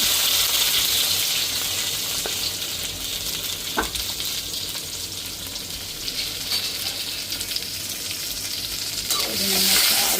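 Cumin seeds, mustard seeds, onion and green chili fry in hot oil, a loud continuous close sizzle with a few spoon scrapes and a brief knock near the end.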